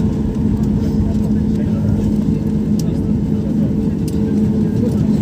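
An airplane rolls along the ground after landing at an airport set among farmland, its engine giving a loud, steady roar throughout.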